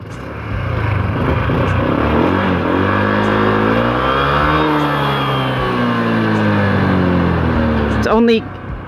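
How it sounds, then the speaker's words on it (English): A Honda Click 125i scooter motorcycle close by, its engine revved up and held at a steady high drone for several seconds before dropping back, with a brief voice near the end. "I'll give it a few revs"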